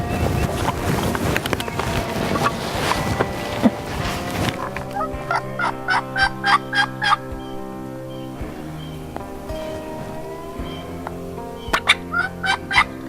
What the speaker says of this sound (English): Hens are yelping, we're yelping.